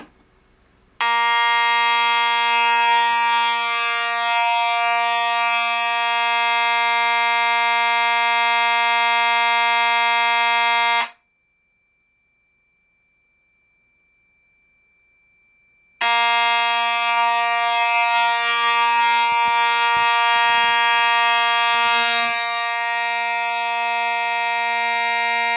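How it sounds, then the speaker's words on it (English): A building fire alarm sounds during a system test: a loud continuous electronic tone runs for about ten seconds, cuts out for about five, then resumes and keeps blaring to the end, no talking. "So with all that said, let's pull the alarm."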